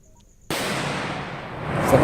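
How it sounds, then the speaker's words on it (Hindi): Security forces set off a 4 kg IED in the Judpalli area. After a brief quiet moment, a sudden loud blast erupts, followed by a sustained roaring rumble that continues to the end. "आप इस धमाके की आवाज और इसकी इंटेंसिटी"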